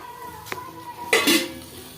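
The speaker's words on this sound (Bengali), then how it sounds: "আমি ঢাকনা খুলছি" A metal lid lifts off a pan of koi fish frying in a little oil: a light clink, then a louder ringing scrape and clatter of metal against the pan rim, alone and close.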